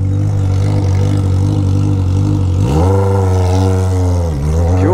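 Honda Hornet motorcycle with a straight-pipe exhaust, loud and close, idling with a steady low drone before snapping into a sharp rev that rises, holds and dips briefly before climbing again.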